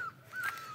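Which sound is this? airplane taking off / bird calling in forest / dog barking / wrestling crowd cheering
bird calling in forest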